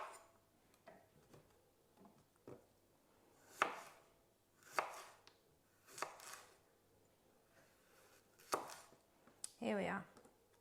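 A knife cuts cucumbers for pickling on a board: about eight separate, quiet chops come at uneven intervals with near-silence between them.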